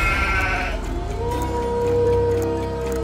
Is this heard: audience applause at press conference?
no